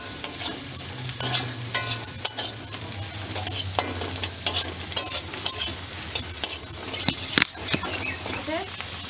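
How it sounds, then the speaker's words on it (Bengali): Potatoes frying in a pan with repeated stirring, a steady sizzle punctuated by close scraping and clattering strokes, with a faint voice in the background. "আলু ভাজা হয়ে গেছে, এবার একটু পোস্ত ছড়িয়ে দিচ্ছি।"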